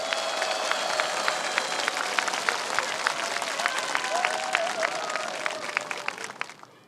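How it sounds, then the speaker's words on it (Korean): Crowd applause at the opening ceremony of the 52nd Silla Cultural Festival Hwabaek rite: a steady wash of many hands clapping, with faint sustained tones and a brief rising whistle-like sound over it, tapering off at the end. "우리 고추대 여러분께도 다시 한번 뜨거운 박수 부탁드립니다."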